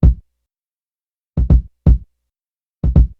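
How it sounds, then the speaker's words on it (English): Deep, punchy kick drum thumps layered over a drum break sound alone in sparse pairs and singles, short and boomy with a clean low end. "So next I put this kick on top of the drum break."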